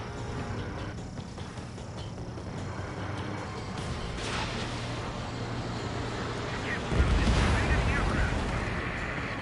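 In Ace Combat 7, an enemy bomber is hit by a missile and goes down, ending in a deep, loud rumbling explosion after a stretch of steady jet and cockpit noise, with radio voices.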